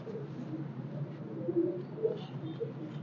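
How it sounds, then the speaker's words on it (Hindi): Old black-faced pigeons cooing in a loft, low murmuring coos rising briefly above a steady rumbling background, fairly close, with no voices. "ये है जी कबूतर, पुराने काले मुंह वाले कबूतर"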